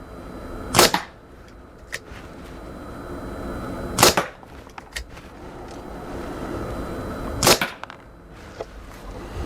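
A Dan Wesson 715 .357 Magnum-style airgun fires three sharp cracks a few seconds apart, each a loud close snap with quieter clicks and handling noises between shots.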